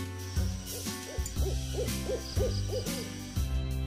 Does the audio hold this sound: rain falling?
no